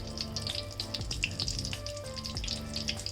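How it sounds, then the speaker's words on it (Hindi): Potato cutlets frying in mustard oil, a close, dense crackling sizzle with bright spitting pops running steadily throughout, no talk. "और ये सरसों का ऑयल में मैं फ्राई कर रही हूँ।"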